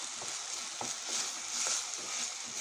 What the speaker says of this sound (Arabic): معايا هنا البطاطس هي بتتحمر